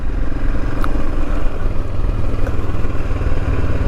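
A Royal Enfield Himalayan motorcycle riding along Cornish country lanes, its single-cylinder engine thumping loud and steady up close with a continuous rumble and rattle, no voices.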